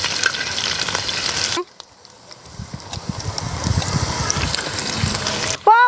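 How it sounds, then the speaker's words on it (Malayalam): Cloves, cardamom, star anise, peppercorns and mace frying in a pan over a low flame, a soft close crackle and bubbling sizzle that builds after a brief lull, with a short clatter and a rising sweep at the end. "ഗ്രാമ്പൂ, ഏലക്ക, തക്കോലം, കുരുമുളക്, പിന്നെ ജാതിപത്രി ഞാൻ പറഞ്ഞില്ലേ, അതെല്ലാം കൂടി ചെറുതീയിൽ വെച്ചൊന്ന് മൂപ്പിക്കുകയാണ് കേട്ടോ"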